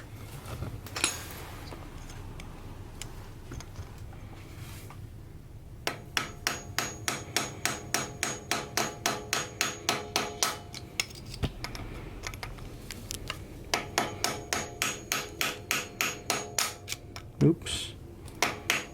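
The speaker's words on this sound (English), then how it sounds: "grab your flathead and your hammer, and you tap it in." A hammer taps a flathead screwdriver into a Yamaha XV1000 motor part, striking in steady, rapid runs of sharp metallic clicks at close range, pausing once before resuming, with quiet talk heard in the background.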